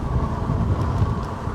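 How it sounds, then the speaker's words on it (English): Steady wind gusting on a blustery day outdoors, a constant low rushing roar buffeting the microphone with no gaps, loud and close throughout. "It is a very windy day."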